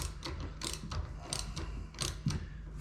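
A ratchet tightens down a fastener while installing rubber inserts from a Marlin Enterprises American Flag Kit, giving repeated short clicking bursts in an even rhythm, up close and moderately loud over a steady background.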